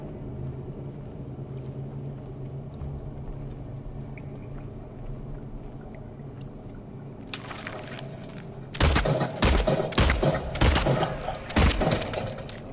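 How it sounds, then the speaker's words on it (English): Gunshots in the Silent Hill 2 remake inside Brookhaven Hospital: after a stretch of quiet ambient hum, a loud cluster of sharp, closely spaced shots rings out, followed by rattling debris. "I missed two of those shots."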